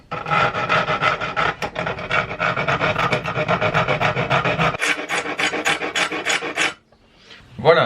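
A hand file rasps against a wooden shim for guitar fret work in rapid back-and-forth strokes, close and steady, with the strokes becoming distinctly separated before a short pause near the end.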